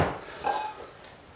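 Frying pan handled among camping gear in an abandoned city building in cold winter, a short metallic clank with a faint ringing tone, close and brief.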